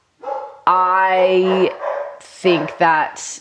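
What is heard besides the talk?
dogs barking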